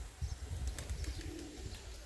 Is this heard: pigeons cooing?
yes